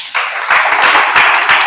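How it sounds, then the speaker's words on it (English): An audience at a social media marketing seminar in Ibadan applauds, a dense burst of close, continuous clapping lasting the whole moment. "Let's give it a round of applause."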